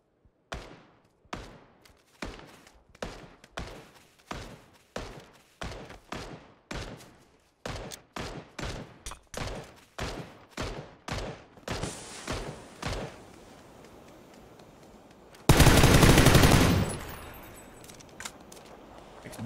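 Gunfire in a shooter video game while under attack: a steady series of sharp, evenly spaced single shots, then quicker shots and a loud sustained roaring burst near the end.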